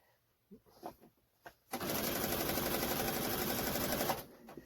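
A domestic sewing machine chain-pieces quilt patches in one steady, close, rapid run of about two and a half seconds, with soft handling noises before and after.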